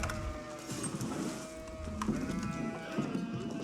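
Several sheep bleat repeatedly in Age of Empires IV over a steady synthetic background tone, the calls overlapping and moderately loud, with a game-like electronic hum underneath.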